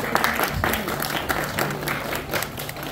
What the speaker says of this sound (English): guys, clap it up for yourselves